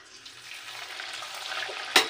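Green peas kachori deep-frying in hot oil, a steady close bubbling sizzle that swells slightly, ending with a sharp clink of a utensil against the pan.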